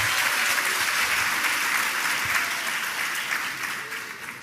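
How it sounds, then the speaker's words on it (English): An audience applauds three hard-working educators at a professional development day gathering, the clapping steady, dense and loud for the whole stretch before slowly thinning near the end. "Give them another round of applause."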